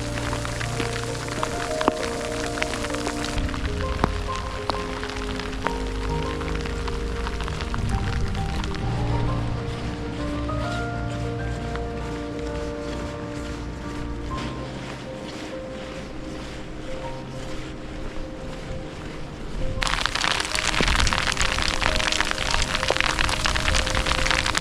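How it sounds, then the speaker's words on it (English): Steady hard pattering of hail drumming on surfaces around, dense and continuous, growing louder and harsher toward the end, during a storm on a cycling climb between Alaska and Argentina. "Now it's hailing."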